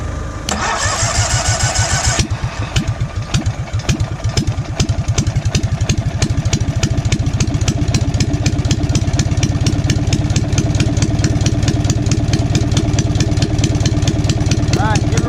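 An old engine cranks and catches, then settles into a loud, steady, rapidly pulsing run with rising revs, close by, with voices talking over it.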